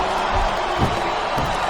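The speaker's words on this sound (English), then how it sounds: "I think this crowd's giving these superstars a piece of their minds, King." Arena crowd cheering in the WWE Smackdown vs RAW 2007 wrestling game during a women's ironman match, a loud, dense, continuous roar with a couple of swelling shouts, and commentators talking over it.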